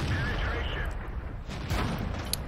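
World of Tanks gameplay: a T29 tank takes repeated shell hits, heard as dull, booming impacts and rumbling explosions over a steady low engine drone.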